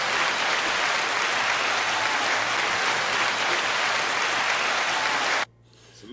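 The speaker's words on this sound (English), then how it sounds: "9-second applause." A live audience at a hip-hop talk show taping gives a dense, steady round of applause, loud and close, then it stops abruptly near the end.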